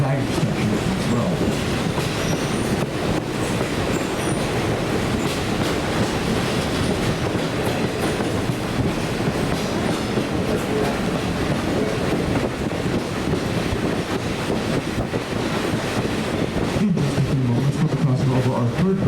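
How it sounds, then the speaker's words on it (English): Riding inside a 1947 Central of Georgia passenger car built by the American Car and Foundry, there is a continuous loud rumble of wheels on rails with clickety-clack and some squealing, and a brief low hum near the end. "you're riding in Central Georgia number 390, built in 1947 by the American Cotton Foundry for the Central Georgia Railroad"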